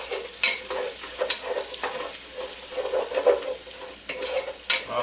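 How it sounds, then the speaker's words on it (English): Small pieces of bacon frying in a pot for New England clam chowder, a crackling sizzle with frequent spoon scrapes and stirring knocks, close and moderately quiet, no voices. "We're just cooking little pieces of bacon."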